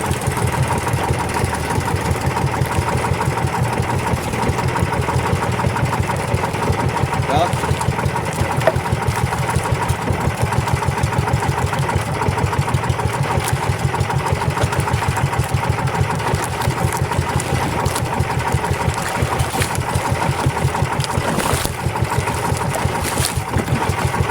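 A steady mid-pitched engine drones continuously at close range, with a regular chugging pulse throughout and no break in its running.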